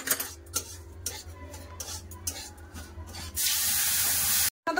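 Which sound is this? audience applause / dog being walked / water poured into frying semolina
water poured into frying semolina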